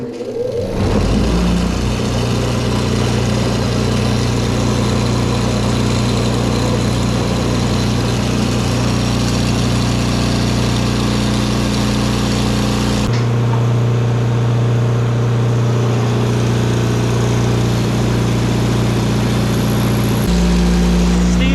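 A power tool with a wire wheel spins up and whirs loudly at close range while cleaning cylinder heads from a Charger engine. A steady high-speed drone shifts pitch partway through as the wheel bears down on the metal.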